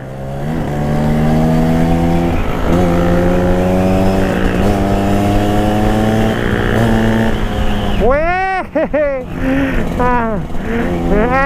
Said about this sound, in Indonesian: Ini bener mesin oke nih.